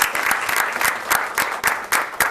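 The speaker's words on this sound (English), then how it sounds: "Let's give Stella one more round of applause." A room of people at a Board of Education meeting claps steadily for Stella, a dense run of many hands at moderate loudness with no voices over it.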